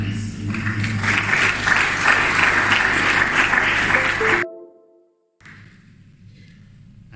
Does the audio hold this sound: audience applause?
yes